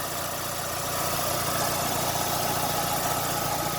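A warmed-up car engine idles steadily during an R134a air-conditioner recharge, a continuous close, even hum with no voices.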